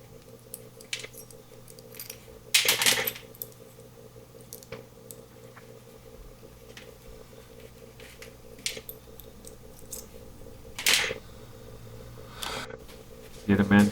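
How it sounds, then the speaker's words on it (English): Wheels being pulled off toy Midge Corvette cars after their burrs were ground away: two sharp, loud snapping bursts stand out against quieter scattered clicks and scraping handling noises. "pull the wheels off of both of them."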